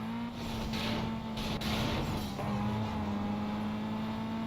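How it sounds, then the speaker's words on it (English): Lamborghini Gallardo engine in the racing game Need for Speed Most Wanted (2012), a steady, loud sustained drone with a strong low tone that shifts slightly in pitch, holding continuously with no talk over it. "I love the Gallardo. It's such a wonderful car. Beautiful, sounds amazing."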